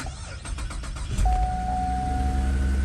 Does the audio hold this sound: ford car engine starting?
yes